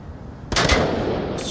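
Gunfire in the VR shooter Onward during a competitive World Cup match, a sudden loud burst of rapid shots that carries on and rings through the rest of the moment.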